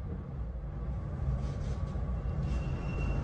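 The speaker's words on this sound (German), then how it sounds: "wir fahren hier in der Straßenbahn der Wiener Linien" Inside a moving Vienna tram run by Wiener Linien, a steady rumbling rail noise with faint wheel squeal, moderately loud and continuous, with no talk.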